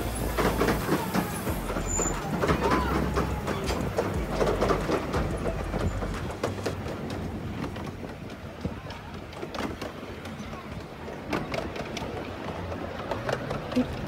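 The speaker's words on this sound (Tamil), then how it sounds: "ஒரு சின்ன டனல், அதில் அந்த ட்ரெயின் போயிட்டு போகிறது இன்னும் நல்லா இருந்தது பார்க்குறதுக்கு." A light steam train running on the Evesham Vale Light Railway, a steady rumbling rolling sound with some higher clanks, heard close and fairly loud while a person talks over it.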